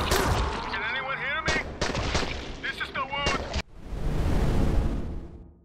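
Gunfire from the Dying Light video game while zombies are shot: bursts of loud, close gunshots mixed with game effects and voices, then a broad, roaring noise in the final seconds.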